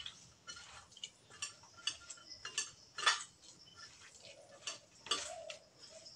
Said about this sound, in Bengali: এবার আমি ভালোভাবে মিশিয়ে নেব।